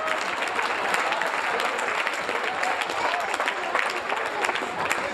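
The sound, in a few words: audience applause at a comedy show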